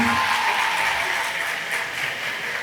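An audience at a private high school ceremony applauds a student, a steady wash of clapping from many hands that stays loud and continuous throughout.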